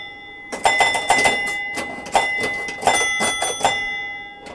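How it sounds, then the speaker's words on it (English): The high-pitched 10-point bell of a Williams Honey pinball machine rings in a rapid series of sharp metallic dings, about a dozen strikes in irregular bursts with ringing decays. No one speaks. "you also hear the high-pitched bell at that point. The 10-point bell."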